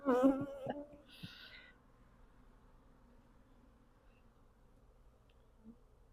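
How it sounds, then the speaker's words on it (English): A swarm of honey bees hums with a buzzing drone that is strongest at the start and then fades to a faint, steady hum during a beekeeping swarm capture. "We have a nice nuke of bees."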